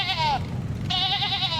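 A sheep bleats twice nearby, two wavering, nasal calls separated by a short pause over a low rumbling background.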